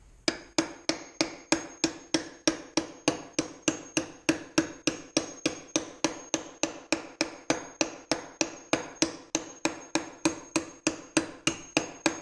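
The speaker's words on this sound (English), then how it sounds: "going to use a hammer" Steady, evenly spaced hammer blows ring out close by on a Corona 3354 weeder being repaired, a long regular series of sharp metallic strikes with no talking.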